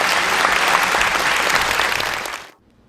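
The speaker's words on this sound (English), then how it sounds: "Give him, please, another round of applause." A crowd gives warm applause for a journalist at an event in Fountain Valley, California; dense clapping fills the room, then cuts off abruptly.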